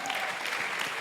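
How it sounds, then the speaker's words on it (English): An audience at a conference panel session claps together, a short, even burst of applause from many people filling the room, close and moderately loud. "Won't you clap for that?"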